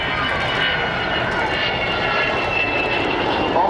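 An Avro Vulcan bomber's jet engines give off a steady, loud, broadband roar with a whining hiss in the upper register, sustained without break as the aircraft runs close by.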